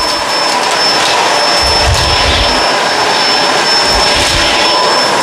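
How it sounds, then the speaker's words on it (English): Kenmore Crossover Ultra vacuum cleaner runs continuously close by on a low pile rug, a loud, steady whine with a high tone and airy roar, with brief low thumps as debris is picked up. "This is Kenmore's solution to being able to pick up large debris without having to sacrifice performance on carpets"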